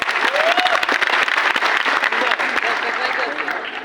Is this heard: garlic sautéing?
no